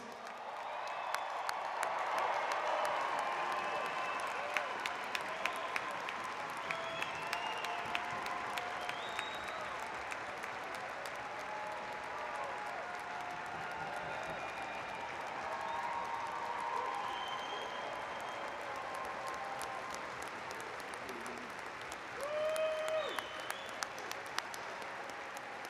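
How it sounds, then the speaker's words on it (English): A large crowd applauds newly graduated Clemson students at an evening graduation ceremony, sustained clapping with scattered cheers and whoops rolling on for many seconds and swelling again near the end. "how about a really, really loud round of applause for the newest Clemson graduates"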